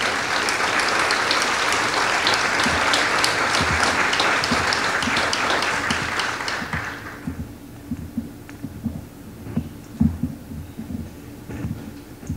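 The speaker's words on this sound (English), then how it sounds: "Please give a round of applause for Alex Fischer, Gloria Barreras, Brenda Drake, and Michael Drake." Sustained audience applause at a gala honoring legends and legacies, a dense wash of clapping that fills the room for about seven seconds and then quickly dies away into a quiet, murmuring hall with scattered faint sounds.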